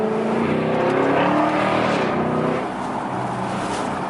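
A 2016 Chevrolet Camaro SS fitted with a Pedal Commander throttle controller accelerates hard, its engine droning loud and close with a rising note that eases off toward the end.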